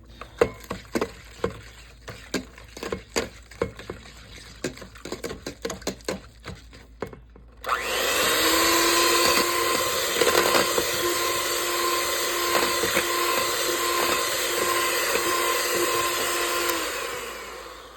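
Brown sugar being beaten into baked donut batter, heard as a close, steady whirring mixer drone that starts abruptly partway through after a run of scattered clicks and knocks, then holds loud and continuous to the end.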